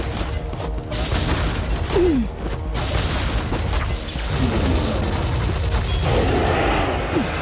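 In the Sanctum 2 tower-defense shooter, turrets keep up dense, continuous gunfire with mechanical clatter and occasional booms. Whistling projectile sweeps pass through the noise, which stays loud and busy throughout.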